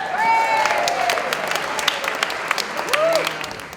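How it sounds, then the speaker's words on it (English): Audience at a Sods ladies' night applauding as a performer is welcomed back to the stage, dense sustained clapping from a full room, with whistles cutting through near the start and again toward the end. "Let's give him a big round of applause."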